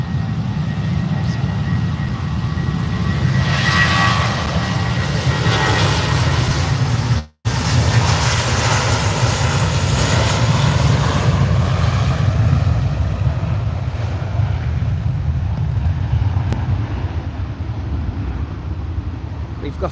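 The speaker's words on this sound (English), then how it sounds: "We've got the Aer Lingus A330 on the taxi out now" Loud, steady roar of an Aer Lingus Airbus A330 jet taxiing out at Manchester Airport, a continuous broad engine rumble that fills the clip with a brief dropout midway.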